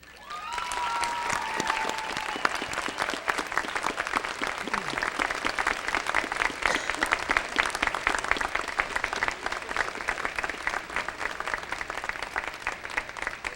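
Families of graduates at a university commencement receive sustained applause from a large audience, dense clapping filling the hall steadily throughout with a faint tonal voice or whistle near the start.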